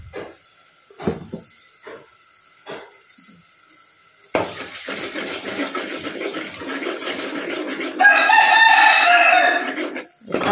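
A rooster crows outside a home kitchen while a brinjal and potato curry cooks, its loud drawn-out call arriving near the end after scattered knocks and a steady rushing, water-like noise.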